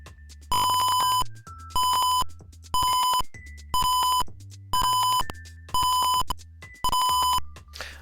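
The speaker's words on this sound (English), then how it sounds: "so it'll be making a tone for half a second, and then for the second half of this second there will be silence" An electronic buzzer sounds in a regular on-off pattern, roughly half-second tones each followed by equal silence, seven clear beeps in a row.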